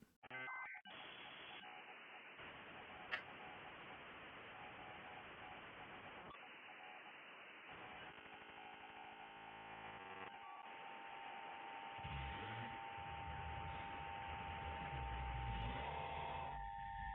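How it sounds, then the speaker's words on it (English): Telephone call placed to a number from an analog TV broadcast, a filtered, band-limited line hiss with a brief click, tone-like buzzing and a steady sustained tone near the end. "There is also a phone number. Let's just call that really quick."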